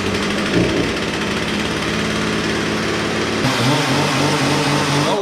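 A Poulan Pro P3416 chainsaw runs steadily and loudly close by, its two-stroke engine droning with a brief rev partway through and no talking over it.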